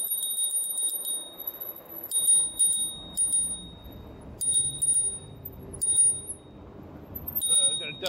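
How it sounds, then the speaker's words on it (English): A bright metallic bicycle bell on an electric bike rings in repeated short bursts, fairly close, over faint background noise and occasional speech. "I gotta ring the bell."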